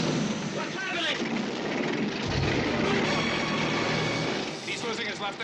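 Aircraft engine failing in flight during a film scene, a loud continuous droning roar that fills the whole stretch, steady and close, with faint voices beneath.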